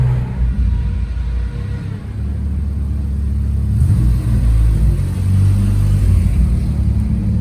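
A turbocharged Acura Integra GSR heard from inside the cabin, its engine giving a deep, steady rumble that swells in a couple of mild revs, loud and close with no talking.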